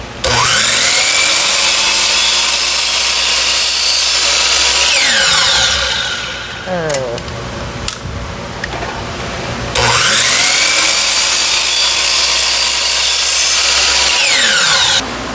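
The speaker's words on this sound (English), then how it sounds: "we're going to cut 12 of them here on the miter saw" A miter saw slices through 3/8 inch oak dowels in two loud, sustained cuts, each with the motor whining up, biting through the wood and spinning down, separated by a quieter pause with small handling clicks.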